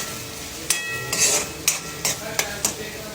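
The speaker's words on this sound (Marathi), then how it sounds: "कांदा पण टाकून पहिलं कांद्याला चांगलं फ्राय करून घ्यायचं त्याच्यामध्ये तेलामध्ये" Onion fries in hot oil with cumin and mustard seeds, sizzling steadily. A utensil clinks and scrapes against the pan in sharp, regular strokes, and no one speaks.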